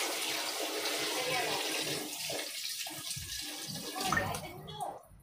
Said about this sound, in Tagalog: Lagyan na natin ng tubig mga ka-brothers.